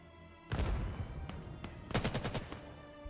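Gunfire from a competitive match of the VAIL VR shooter game: a sharp opening burst followed by scattered shots and a rapid volley of close, punchy reports, with no voices over it.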